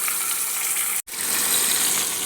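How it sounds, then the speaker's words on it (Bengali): Fish pieces hiss and sizzle in hot oil in a kadai, a loud steady frying roar that drops out for a split second before resuming. "মাছ ভাজা হচ্ছে"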